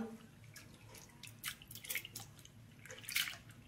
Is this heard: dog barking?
no